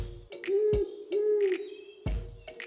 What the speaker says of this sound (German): Eine weiße Eule lebt in ihrer Höhle.